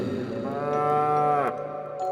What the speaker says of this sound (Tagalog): malumanay na umatungal ang kalabaw na tila naiinip sa kanyang pagkakayukod